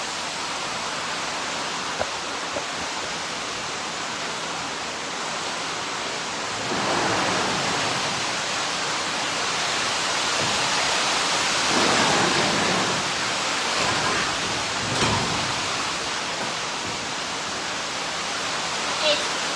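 Heavy rain pours down outside a door, water running in beneath it, a steady broadband hiss that swells louder in surges through the middle and end, with no talking.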